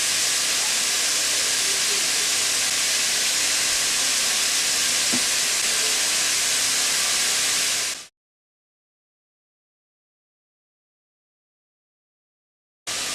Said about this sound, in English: I'm cooking these vegetables for 2 or 3 minutes just to start them off, just so they get a little bit soft